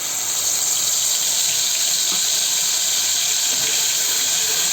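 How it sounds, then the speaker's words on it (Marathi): Ground spice paste for traditional horse gram shengoli hits hot oil in a pot, giving a loud, steady hiss of sizzling that holds evenly throughout with no talk. "तेल तापले त्यामध्ये आपण वाटून टाकूया"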